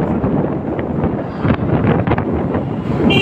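Strong, continuous wind buffets the microphone while a rider speeds along on a Hero Xtreme motorcycle in cold air. A dense, rumbling roar stays loud and unbroken throughout, with no talking.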